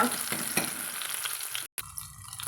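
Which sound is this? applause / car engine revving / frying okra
frying okra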